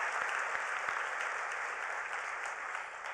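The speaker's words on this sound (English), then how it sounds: "let's give Erica a big hand of applause" Audience applause at the 2019 Hult Prize Finals and Awards Ceremony at the United Nations, a steady dense wash of many hands clapping through the whole stretch, fairly distant and even.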